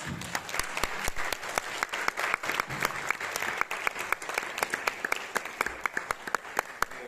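A concert hall audience at an evening of Indian culture and music breaks into steady applause. Dense, even clapping carries on throughout, with crisp individual claps standing out near the front.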